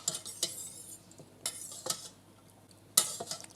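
A spoon or utensil clinks against a container while stirring dissolved lye into soap-making oils at about 37 degrees Celsius, a few sharp scattered taps over a quiet background.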